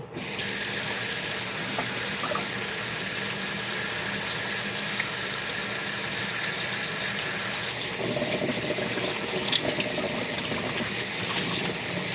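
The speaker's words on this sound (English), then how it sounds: "I'm washing my hands now." Hands washed under a running kitchen tap, with a steady loud rush of water that shifts in tone partway through as the hands move beneath the stream.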